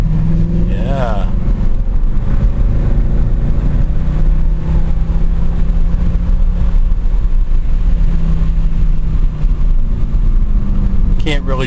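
A Mercedes C63 AMG engine roars steadily at high speed around 140 mph, a loud sustained drone with road and wind noise throughout and a voice talking over it.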